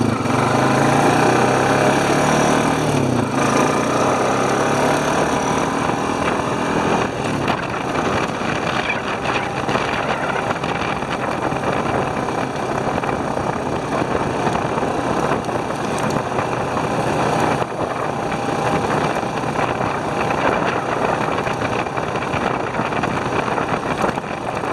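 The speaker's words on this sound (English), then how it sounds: "It's starting to run better." Honda Rancher 420 ATV engine running steadily on old fuel, a loud continuous motor drone with broadband rumble that holds for the whole stretch, no talking over it.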